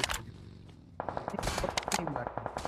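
AMR sniper rifle fire in the mobile battle royale game BGMI, several sharp gunshot cracks and rapid bursts of shots, near and loud, mixed with other game effects.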